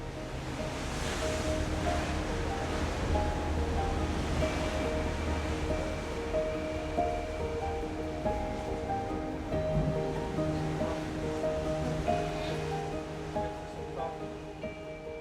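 Steady rushing surf and breeze heard from a cruise ship balcony of Royal Caribbean's Ovation of the Seas on an Alaska voyage, a continuous broad wash of ocean noise with wind, and no voices.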